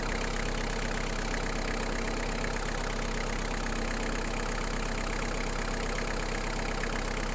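The small diesel engine of a Kubota GT-3 Japanese mini tractor idles steadily nearby after warming up, a constant low chugging rumble with no change in pace.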